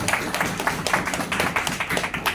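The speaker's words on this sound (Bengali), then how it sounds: "আমরা হাততালি দিই, হাততালি দিই।" Audience clapping at an award ceremony while a chairman hands a prize to a staff member, a dense patter of many hands that stays steady and moderately loud throughout.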